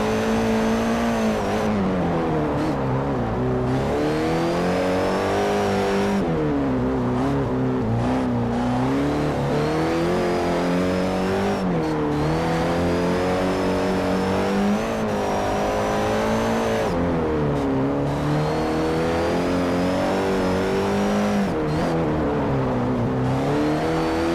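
A race car's engine in Forza Motorsport 4 revs loud and close throughout, climbing through the gears with rising whines and dropping sharply at each shift, with brief lifts and repeated pulls up again.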